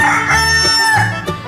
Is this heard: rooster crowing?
yes